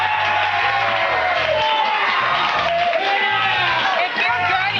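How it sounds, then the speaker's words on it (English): A studio audience at a 2008 G4 television show cheers, whoops and shouts continuously, a loud, dense crowd roar that holds steady for several seconds. "You don't stop clapping"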